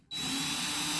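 A power drill whirs steadily after a sudden start, loud and close, with a high whine held throughout, while replacing a door lock on a Thor Majestic RV.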